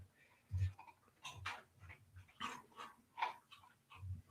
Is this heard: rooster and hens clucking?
no